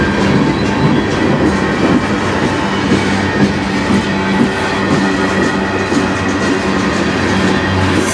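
A CN manifest freight train rolls past eastbound on the Strathroy Subdivision, coil car and tank cars rumbling close and loud with steady wheel clatter and a continuous heavy roar throughout.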